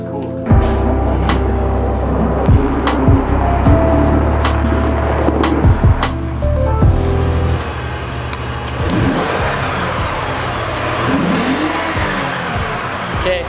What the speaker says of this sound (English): now he's gonna bring in his Lexus